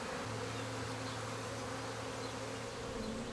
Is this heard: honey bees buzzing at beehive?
yes